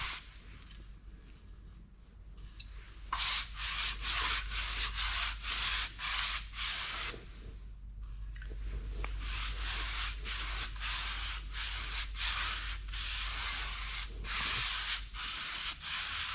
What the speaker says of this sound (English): I'm going to just start spreading the steel wool vinegar mixture over the surface